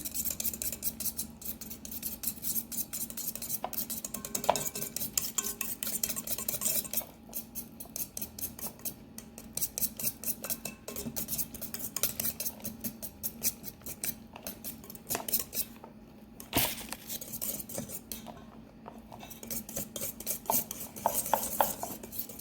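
Cake flour being mixed into Japanese cheesecake batter, with rapid rhythmic whisking and clinking of a utensil against a bowl, close and continuous with brief pauses.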